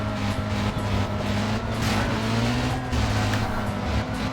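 A Nissan S13 240SX in Need for Speed, its engine droning steadily at high revs with a faint tire squeal, loud and close throughout, no talk.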